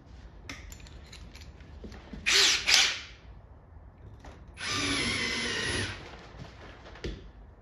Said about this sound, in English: I want these rivets to be as tight as possible